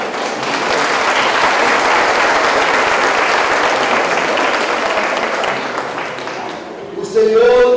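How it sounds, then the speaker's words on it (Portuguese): Congregation at a Saint Anthony novena Mass in church applauding in a dense, sustained wash of clapping that fades near the end, where a voice starts speaking. "Vamos acolher todos eles com uma salva de palmas."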